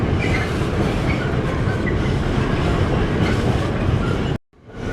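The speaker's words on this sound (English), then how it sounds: "Busy freight train on the go." A busy freight train rolls past across flat fenland, a loud, close, continuous rumble with rhythmic clickety-clack of wagon wheels, ending in a brief cut to quiet.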